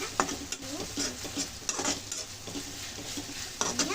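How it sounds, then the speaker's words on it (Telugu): Ginger garlic paste sizzles steadily in hot oil while a spoon stirs and scrapes the pan in repeated strokes, close and continuous, with no talking. "బాగా ఆయిల్లో ఫ్రై అయింది కదా."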